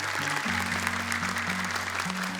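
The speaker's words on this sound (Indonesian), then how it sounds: "Tepuk tangan dong untuk Dewan Jurinya." Audience applause for the jury panel at an Indonesian Quran recitation talent show, a steady wash of clapping that holds at an even level throughout, with a sustained musical tone running underneath.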